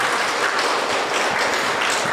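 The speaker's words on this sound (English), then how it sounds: "So please one time claps." Audience applause at a Geeta Jnana Yajna talk, a steady dense wash of many hands clapping together, fairly loud and continuous with no voices over it.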